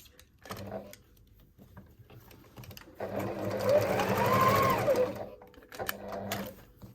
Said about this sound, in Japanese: 手縫いでも何でもいいんですけどね。